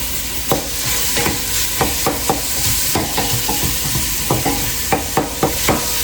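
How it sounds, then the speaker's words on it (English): Chicken pieces and vegetables brown in a hot pan for a soup of chicken, kale and potatoes, a steady close sizzle broken by repeated sharp scraping and tapping of a stirring utensil. "let's get it in with the veggies to brown"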